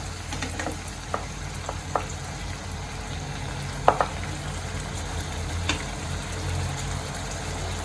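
A Khandeshi vegetable curry cooks in a pan over a medium gas flame, giving a steady low sizzle with scattered light clicks and pops from stirring.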